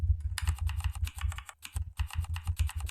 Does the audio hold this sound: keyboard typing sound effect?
yes